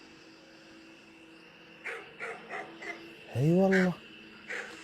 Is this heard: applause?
no